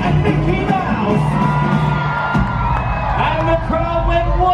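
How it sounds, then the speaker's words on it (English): Wild crowd cheering aboard the Disney Magic cruise ship, a dense roar of yells, whoops and shouts sustained throughout, loud and close with music-like tones underneath. "And the crowd went wild."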